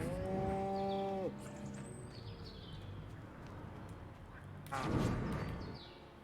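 Cows moo in the Destroy All Humans remake, one long clear low moo at the start, then fainter bird-like calls and a brief bright burst of game noise near the end.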